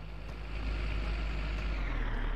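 A truck engine in a farming video game revs while gates open, a steady, loud low rumble that swells after the first half second and holds without voices.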